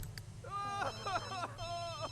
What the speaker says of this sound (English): Who's he getting a phone call from?